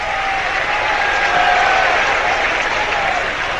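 Football crowd at Arsenal vs West Ham on 26 December 2022 cheering a late substitution, a loud, steady roar of applause and cheers filling the stadium throughout without letup.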